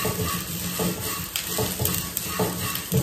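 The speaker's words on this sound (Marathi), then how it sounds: "डायरेक्ट ना अशी फ्राय करून घेते" Sprouts fry in a pan without oil, giving a close, steady sizzle broken by the repeated scrape and clatter of stirring, with no talking.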